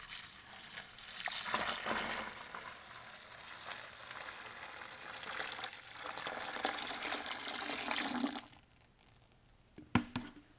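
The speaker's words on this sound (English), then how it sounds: "So we're gonna put the remainder of the 3 liters of water, completing 4 total liters of water in this JADAM Wetting Agent." Roughly three liters of water pour steadily into a JADAM Wetting Agent mixture to bring it to four liters, a continuous splashing gush that stops abruptly near the end, followed by a brief clunk and quiet.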